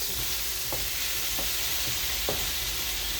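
Banana pieces fry in a pan with a continuous loud sizzle, and a few sharp stirring knocks land every half second or so.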